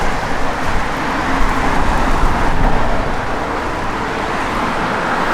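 A 1963 Ford Fairlane 500's engine fires up and settles into a steady, loud rumble close by, with a brief swell partway through before evening out.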